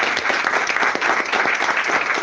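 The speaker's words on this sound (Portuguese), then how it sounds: "As palmas a Iau." A church congregation breaks into loud, close applause, a thick wash of clapping that stays even throughout without a break.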